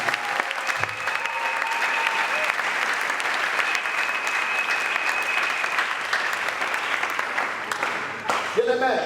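A church congregation applauding and cheering loudly in a dense continuous roar of claps, with voices mixed in, holding steady for the whole stretch before a brief louder burst near the end.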